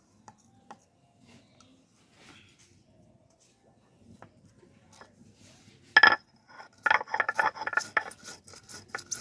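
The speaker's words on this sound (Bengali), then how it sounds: "এবার মৌরিটাকে গুঁড়ো করে নেব।" Fried fennel seeds are coarsely crushed by hand. Quiet at first with a few soft taps, then a loud crunching strike followed by a run of rapid, gritty pounding and grinding bursts close by.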